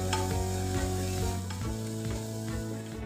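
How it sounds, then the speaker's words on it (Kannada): Chopped coriander leaves being stirred into a baby food mixture in a pan, with a spoon scraping in brief repeated strokes over a soft sizzle, backed by steady musical tones. "ಈಗ 1 ಟೀ ಸ್ಪೂನಷ್ಟು ಕಟ್ ಮಾಡಿದ ಕೊತ್ತಂಬರಿ ಸೊಪ್ಪು ಹಾಕ್ಕೊಂಡು ಮಿಕ್ಸ್ ಮಾಡ್ಕೋಬೇಕು."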